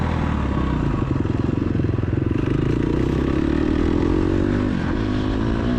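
An off-road motorcycle engine revs loud and close, climbing steadily in pitch with a continuous rattly drone, no talking.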